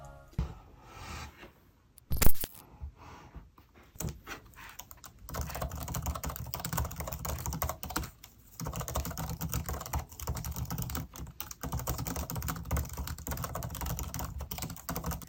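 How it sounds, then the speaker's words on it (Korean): Typing on an Apple Magic Keyboard 2, a rapid run of light, clattery key clicks heard close up and alone, broken by a few brief pauses and one louder knock early on. "매직 키보드 2는 키에서 찰찰거리는 소리가 심한 편이라 다소 경박스럽거든요."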